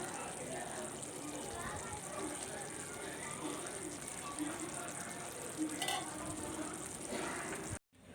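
Shallot gravy with spices simmering in gingerly oil, a steady soft sizzle and bubbling that runs throughout, under a voice speaking, ending abruptly.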